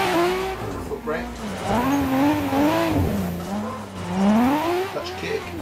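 A race car in Assetto Corsa squeals its tires through a clutch-kick drift at Forest Park, the wavering screech rising and falling continuously over the engine drone.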